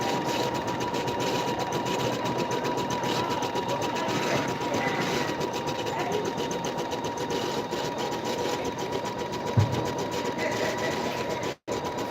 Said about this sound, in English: So obviously it's sewing quite a lot of stitching now.